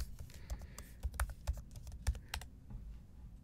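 Someone types a password on a Mac keyboard. Quiet, quick key clicks come in an uneven burst for a few seconds, close by, then stop.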